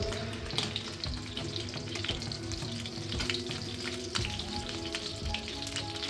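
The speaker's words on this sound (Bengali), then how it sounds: "চুলায় প্যানে তেল গরম করে পটলগুলো ডিমে চুবিয়ে মিডিয়াম আঁচে উল্টে পাল্টে ভেজে নেব।" Pointed gourd pieces dipped in egg fry in hot oil in a pan over medium heat, a steady close sizzle with crackling pops running throughout.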